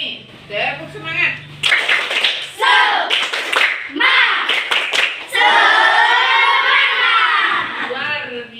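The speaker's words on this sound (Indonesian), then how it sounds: "Ulangi. Tepuk semangat." Children repeat the 'tepuk semangat' clap chant with bursts of rhythmic group clapping mixed with loud shouted chanting, close and energetic, then sustained cheering voices.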